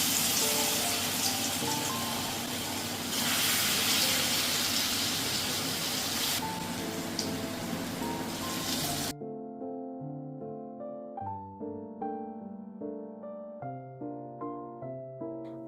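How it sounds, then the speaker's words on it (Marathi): Moong vadas of lentil batter sizzle and crackle densely in hot oil, a loud, steady hiss close by that stops abruptly partway through and gives way to a soft music passage. "आता तेल आपलं व्यवस्थित गरम झालं आहे, तर आता आपण हे मूग वडे टाकून घेऊया."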